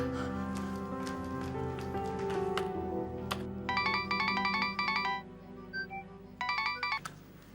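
A phone call being placed, with a melodic electronic ringtone and rhythmic ringing-tone bursts repeating in clear steady pulses, no voices over it.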